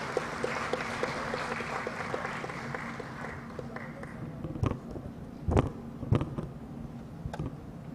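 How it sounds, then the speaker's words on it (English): Applause from an audience at a high-level economic growth forum, a steady patter of clapping that thins out after a few seconds, with a few louder thumps and some background murmur. "A round of applause, ladies and gentlemen."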